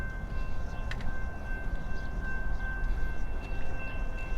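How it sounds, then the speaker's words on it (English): A train passes near a marina waterfront, giving a low steady rumble with a sustained tonal warning sound held over it at moderate distance. "There's a train coming."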